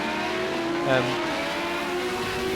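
A Group 5 race car roars down the hill toward Conrod Straight at Bathurst in Project Cars 2 on Xbox, its engine droning steadily at high speed with a brief rising whine, loud and continuous.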